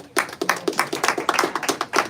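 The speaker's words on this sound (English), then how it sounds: "Give him a round of applause." Post-fight crowd at a boxing event clapping for the boxer, a quick burst of sharp, fairly close hand claps that runs for about two seconds.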